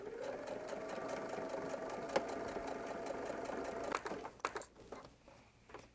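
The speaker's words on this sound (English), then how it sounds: "we'll be flipping to the wrong side of the exterior and sewing directly on top of the previous stitching" Sewing machine stitching directly on top of earlier stitching on the wrong side of a fabric exterior, a steady motor whir for several seconds that slows and ends in a few clicks and clunks.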